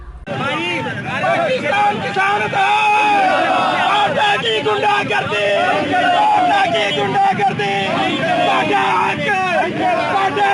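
A large crowd of farmers protesting outside a WAPDA electricity office, loud and sustained shouting and chanting of slogans with overlapping voices and whoops across the whole stretch.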